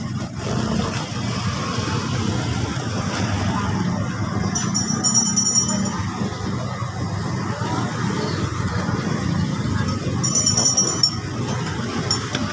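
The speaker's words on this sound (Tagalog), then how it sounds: "Ayan po, traffic na naman dito sa Vietnam." Constant low rumble of road traffic in Vietnam, a steady wash of engines with a couple of faint metallic clinks, heard continuously throughout.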